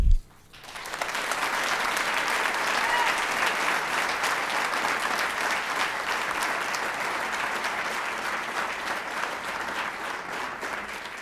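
An audience applauds at a school board meeting, a dense roar of many hands rising after a brief opening sound and holding loud and steady for about ten seconds before easing slightly.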